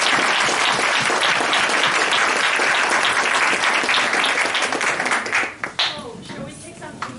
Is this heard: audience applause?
yes